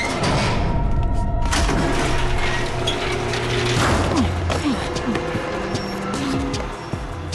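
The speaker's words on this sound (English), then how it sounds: "Looks as if the elevator works just fine." A cartoon elevator mechanism runs with a loud, continuous mechanical rumble and grinding, with whirring tones and clanks layered over it, steady throughout and no speech.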